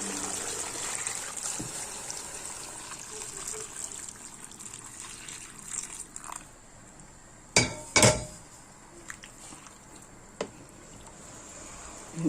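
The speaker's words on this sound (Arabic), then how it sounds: "دابا غنديروا الماء الطايب" Boiled water poured into a cooking pot while making Moroccan couscous, a running gush and trickle under a steady hiss, with a couple of sharp metallic clinks midway and faint voices in the background.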